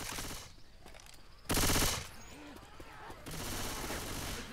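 Gunfire in Left 4 Dead 2 against zombies on a street, loud bursts of rapid automatic fire broken by short quieter gaps, with a voice briefly heard between volleys.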